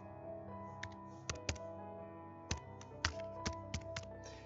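Typing on a computer keyboard to enter an email address, a series of crisp, close key taps in irregular bursts over a faint steady hum, with no talking.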